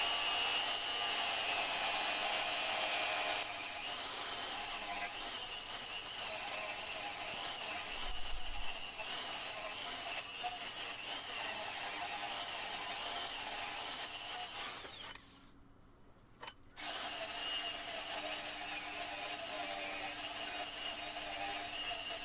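A die grinder shapes a wooden slingshot with a steady, close abrasive whir and a thin high whine. The sound runs almost continuously and drops out briefly for about a second near the end before resuming.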